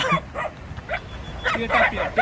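Several short, high yips and barks from small dogs, close by, in quick irregular bursts with faint voices between them.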